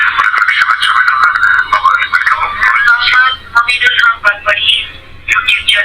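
Wireless FM radio playing through the loudspeaker of a TEX T100 feature phone with no headphones attached, a close, loud, slightly tinny broadcast with voice-like content and brief dips and clicks.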